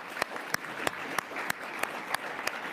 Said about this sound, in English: please join me in giving a round of applause to our esteemed panelists here.